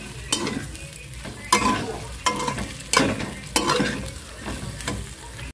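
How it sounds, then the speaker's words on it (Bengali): Chicken being stirred with pasta masala in a frying pan, a steady sizzle broken by about six scraping stirs at roughly one-second intervals, close and with no talk. "দু প্যাকেটই দিয়ে দিলাম ওখানে নাড়াচাড়া করে নেব কিছুক্ষণ"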